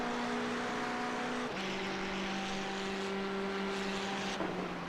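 GT4 race cars in a sim racing game brake hard into the hairpin at Hockenheim. Steady engine tones hold, then drop in pitch together as the cars slow, under a constant broadband roar with no talking.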